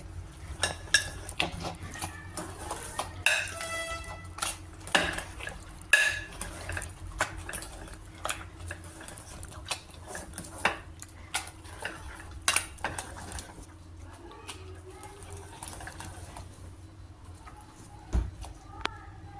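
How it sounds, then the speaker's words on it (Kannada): Hand-mashing ingredients for mosaru curry in a metal vessel brings scattered clinks, scrapes and soft taps of utensils at close range, irregular and fairly faint against a quiet room. "ಜಸ್ಟ್ ಈ ರೀತಿಯಾಗಿ ಮಸ್ಕೊಂಡ್ರೆ ಸಾಕಾಗುತ್ತೆ"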